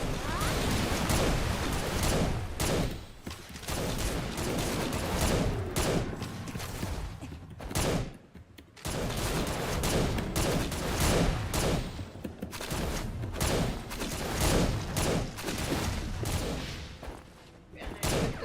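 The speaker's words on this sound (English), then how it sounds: "Yeah, I shoot the tentacles." Dense, continuous gunfire from the Vindictus video game as the player shoots at a Kraken's tentacles, rapid overlapping shots with crashing impacts, loud and steady for most of the stretch with a brief dip midway.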